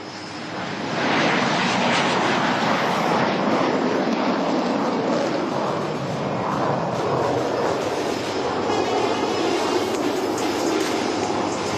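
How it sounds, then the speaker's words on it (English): Military display jets of a nine-aircraft team take off at the Aero India 2023 airshow in Bengaluru: a powerful, continuous broadband roar that rises quickly and stays loud throughout. "The first 3 set, ladies and gentlemen, taking off right in front of you."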